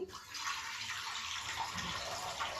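Steady running water pours continuously over rice being rinsed, a close, even splashing wash of sound with no talking.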